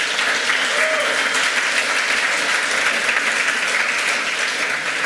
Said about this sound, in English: Can we get a round of applause for these guys?